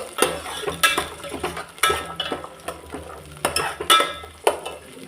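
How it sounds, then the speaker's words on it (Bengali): Green peas being stirred and fried in a pan, with repeated close scraping and clattering strokes of a spoon against the metal at an uneven rhythm over a soft sizzle. "মটরশুঁটিগুলো একটু ভেজে নেবো আর কি"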